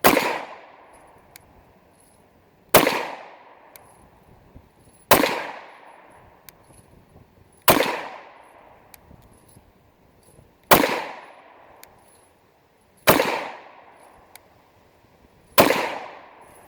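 Ruger 57 pistol firing single shots at a slow, steady pace, seven sharp loud reports roughly every two and a half seconds, each with a decaying echo tail and quiet gaps between.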